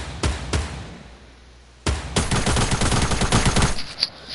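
Gunfire in a video game during a livestream: two quick single shots, a pause, then a sustained rapid burst of automatic fire, loud and close.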